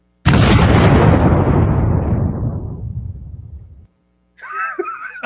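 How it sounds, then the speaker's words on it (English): A loud explosion sound effect erupts suddenly and rumbles for over three seconds before decaying into silence, followed by a child's high-pitched giggling. "every time you hit the explosion, she start giggling"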